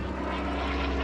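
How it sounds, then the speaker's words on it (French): A British fighter plane's engine drones in a steady, even roar with a low propeller hum, close and unbroken, with no voices over it. "la voiture de Rommel est prise pour cible par un avion de chasse britannique"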